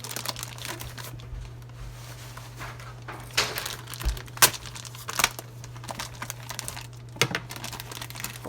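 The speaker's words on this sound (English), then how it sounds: "I'm just going to cut this package open." Plastic packaging around store-bought home-style bread dough loaves being cut open, giving a series of close crinkling, rustling and snipping sounds with a few sharper crackles, no talking.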